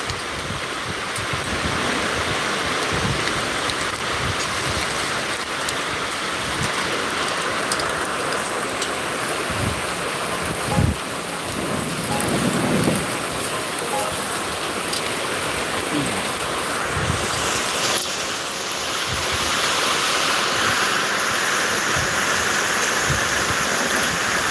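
Heavy rain pours down in Zaheerabad, a dense, continuous roar of falling water and splashing on surfaces that holds steady and loud throughout, with no clear voices.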